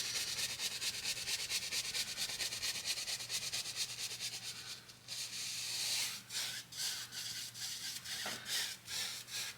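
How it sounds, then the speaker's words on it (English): A brush scrubs liquid white paint on canvas, a close, soft, continuous scratchy rubbing with quick repeated strokes over a low steady hum. "I need a little bit of the liquid white on this part that was under the tape. So I just give it a nice little scrub there."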